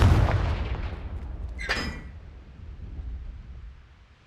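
A Confringo fire spell explodes in the video game Hogwarts Legacy with a heavy booming blast at the start and a sharp crackling burst partway through, then a rumbling decay.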